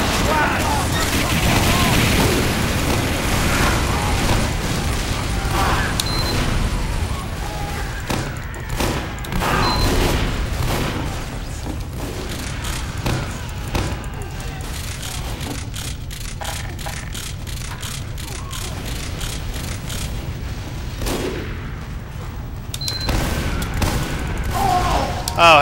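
Team Fortress 2 combat rages in dense, continuous gunfire with repeated booming explosions, shots crackling near and far in rapid clusters, while a player talks throughout the fight.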